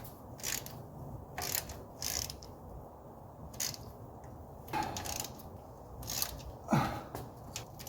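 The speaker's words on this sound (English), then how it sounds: "I'm just doing it by hand. I'm not using the handle of the ratchet." A ratchet turned by hand on an oil pan bolt: rapid bursts of fine metallic clicking come in short separated runs, close and fairly quiet, against a low background hum.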